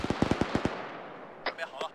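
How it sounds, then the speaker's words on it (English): Explosions and gunfire in the military shooter Arma 3: a rapid burst of loud, sharp shots opens, followed by quieter scattered reports and a final close crack. "Well, I hear explosions, so..."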